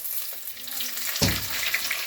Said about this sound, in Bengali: এবার আমি দিয়ে দিচ্ছি সামান্য একটু বাটা মশলা।